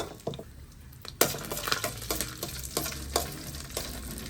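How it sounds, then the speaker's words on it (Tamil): Garlic sizzles in hot oil in a pan for chicken fried rice, with a spatula stirring and scraping against the metal in quick irregular strokes, close and fairly loud. "இப்போ உள்ளி போடுறேன்."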